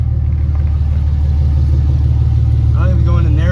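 A cheap Cummins diesel engine with a failed power steering pump idles in a smoky barn garage, a loud, steady low rumble throughout, with a voice talking over it near the end.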